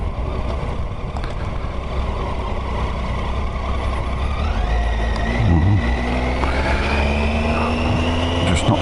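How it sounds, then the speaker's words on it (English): A car passing on a road, its engine rising and falling as it goes by, with a steady low traffic rumble throughout and no talk. "What's this car doing?"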